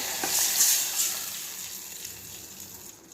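Buttermilk poured into a hot pan of cooked garlic cloves gives a soft, steady sizzle with a faint splashing pour that fades over a few seconds.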